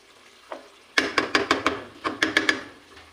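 Potato and eggplant pieces fry in masala and ghee, stirred with a spoon: a quiet start, then a close run of rhythmic scraping knocks against the pan over a soft sizzle, pausing briefly before another quick series.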